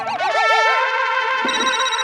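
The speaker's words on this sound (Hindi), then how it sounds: "ये मेरा फोन जेठालाल का फोन" A telephone rings in a Hindi sitcom scene with a loud, warbling electronic tone that pulses rapidly, then shifts to a steadier buzzing ring, with no talking.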